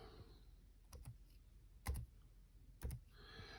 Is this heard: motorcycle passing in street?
no